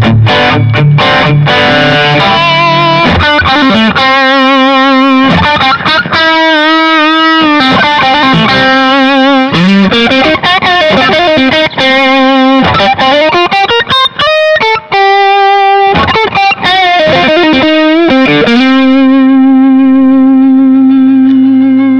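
Electric guitar played through a Tone City DP Durple effects pedal, loud phrases of swirling, modulated notes with echo and a slightly noisy edge, alone without talk.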